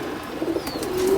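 A brief, soft pigeon coo from a lively pet pigeon held by its keeper, low and close, with no talking.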